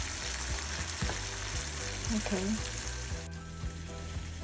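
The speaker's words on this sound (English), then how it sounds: "So it's really boiling now." Sugar syrup for candy apples bubbles and sizzles in a pot on the stove, a constant loud hiss with small pops and faint clinks, and a voice speaks briefly once.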